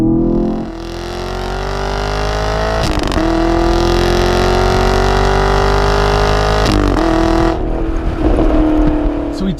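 A Chevrolet Camaro LT1 V8 revs hard and accelerates, its loud engine note climbing steadily through the gears, with two brief shift breaks before easing off near the end.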